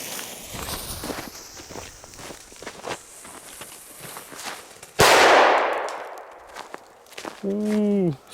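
A Piromax PXP309 C4 firecracker goes off outdoors during a decibel meter test, one sharp, very loud bang with a long decaying rumble. Footsteps shuffle beforehand, and a short tonal sound follows.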